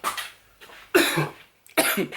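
Three bursts of harsh, close coughing, a short one followed by two heavier fits, with brief silence between them.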